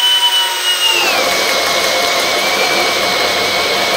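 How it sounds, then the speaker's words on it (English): A cordless power tool on its lowest speed setting bores a hole, its motor whine starting after a second of quiet and then running steadily and close by. "we'll start fresh with a hole over here and on speed 1"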